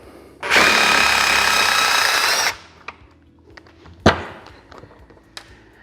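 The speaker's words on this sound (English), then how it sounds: "So we're just going to take these 4 bolts out right here." A power tool zips out a bolt on a Mammotion LUBA AWD 5000 robotic mower during a repair, a loud buzzing burst lasting about two seconds, followed by a few sharp clicks and clunks of parts being handled.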